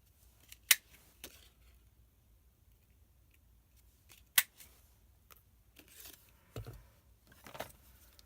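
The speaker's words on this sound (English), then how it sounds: "I'm just going to cut out some pears to stick on the top" Scissors snip paper to cut out pear shapes for a handmade card, with a few sharp, isolated clicks spaced seconds apart over a quiet, close background.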